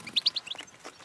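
Wild goldfinch (chivón) released by a bird trapper, giving a quick run of bright, high twittering chirps, close and fairly faint, over a quiet background.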